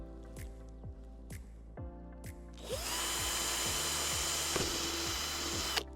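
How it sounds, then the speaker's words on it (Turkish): A power drill bores a hole in a cane plant support, one loud continuous whine lasting a few seconds after some drips and squishy handling noises. "Aynı şekilde işaretlediğim diğer yerden de deliyorum."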